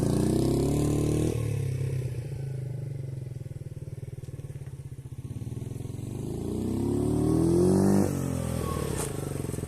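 A Mondial SFC 50 Mini 50cc motorcycle engine revs up and down under the throttle. The close, buzzy small-engine whine rises and falls through several blips, with a louder surge toward the end.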